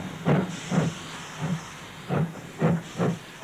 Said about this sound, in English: the M-Class steam engine hauled 130 rail enthusiasts through the lush country of northwest